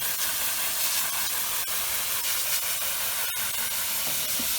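A water spray blasts steadily against pool cartridge filters during cleaning, a constant close hiss with slight fluctuations and a couple of brief clicks, no voices.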